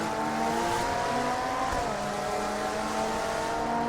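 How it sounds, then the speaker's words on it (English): A race car engine in the Total Immersion Racing video game holds a steady, loud, high-pitched drone with shifting harmonic tones, running continuously with no talk over it. "Love the sound of this car."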